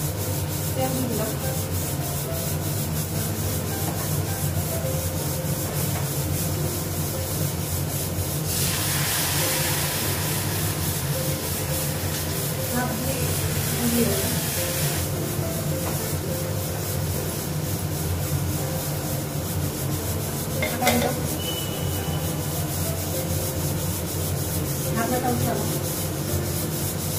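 Oil heats in a wok on a gas stove, giving a steady sizzling hiss with a louder burst of frying partway through and faint kitchen clatter around it.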